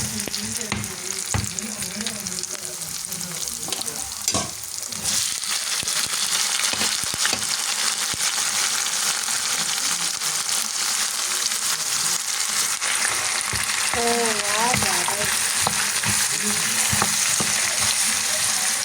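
Khoa fries with sautéed onions in a pan, giving a steady, loud sizzle with scraping and stirring strokes throughout and a brief faint sound of a voice or whistle near the end.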